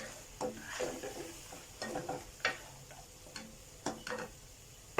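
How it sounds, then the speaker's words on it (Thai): Long beans and snow peas stir-fried with cooked chicken breast, a spatula clicking and scraping the pan in irregular bursts over a soft, low sizzle, fairly quiet with no talking. "ผมก็จะใส่ถั่วมีถั่วฝักยาวกับถั่วลันเตาเนาะ สองถั่วเอามารวมกันแล้วก็ผัด ผัดให้สุก"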